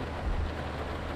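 Rain in the bus-driving video game Fernbus Simulator, a steady soft wash of patter with a low rumble underneath, continuous and even, no talk.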